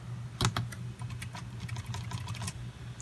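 Fingers tap continuously across a replacement keyboard fitted to a ThinkPad T470s laptop, giving a rapid, uneven patter of close plastic key clicks with a steady low hum underneath.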